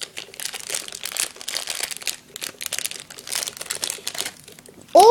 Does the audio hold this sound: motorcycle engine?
no